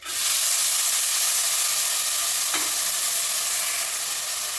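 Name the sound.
prawns frying in oil in a pan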